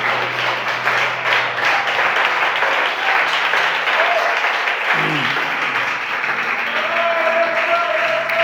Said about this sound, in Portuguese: se você pode aplaudir Jesus essa noite